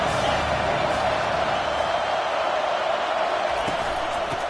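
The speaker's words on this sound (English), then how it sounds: "this crowd is tearing the lid off this place" Stadium crowd in the NCAA 25 college football video game, a loud sustained roar filling the whole stretch, steady and dense, with faint commentary voices underneath.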